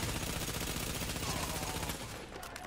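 Rapid gunfire in The Division hammers at an enemy's shield, a steady stream of quick shots that runs for about two seconds and then cuts off.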